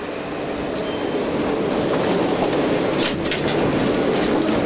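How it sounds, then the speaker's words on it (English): A New York City subway E train bound for World Trade Center, heard from inside the car: a steady rumble and rattle of wheels on track with a brief metallic squeal partway through. "This is a World Trade Center bound East train."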